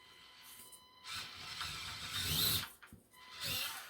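An SCX24 RC crawler truck grinds over a set of DVD case obstacles, its small motor and gears whirring in uneven bursts that swell and drop as it climbs, fairly close and alone.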